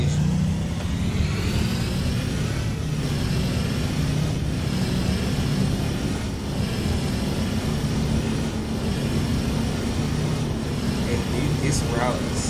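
A car engine in the driving game Rigs of Rods drones loudly and continuously at a steady pitch while the vehicle is driven hard. A voice talks over the engine throughout.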